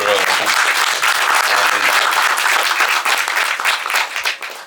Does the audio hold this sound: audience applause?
yes